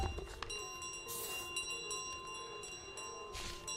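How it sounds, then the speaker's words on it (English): A golden bell rings on in a goose video game during a live speedrun, a steady sustained chime with layered high tones held throughout at moderate volume, with no talking over it. "we are going to hear maybe, you know, a couple minutes worth of the bell ringing"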